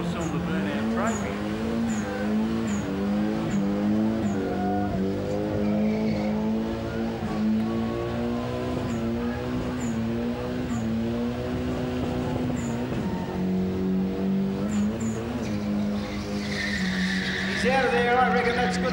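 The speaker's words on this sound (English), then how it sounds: "That was a good little skid." A four-cylinder car doing a burnout at a Summernats burnout elimination, its engine droning steadily with tires skidding and squealing throughout, loud and close, with a brief surge near the end.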